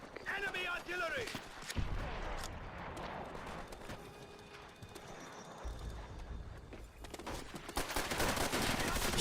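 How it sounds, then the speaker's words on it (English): Enemy artillery strike in Call of Duty: World at War multiplayer, with heavy low booms and rumbling impacts pounding in bursts amid scattered gunfire, one strong hit near the start of the second second and more toward the end, with game chatter in the background. "Enemy artillery!"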